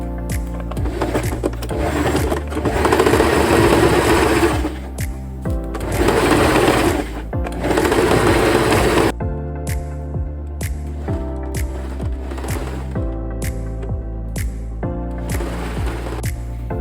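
A sewing machine stitches the lining pieces of a denim bucket hat, running in long, loud whirring bursts with short stops between them, then quieter, lighter runs toward the end.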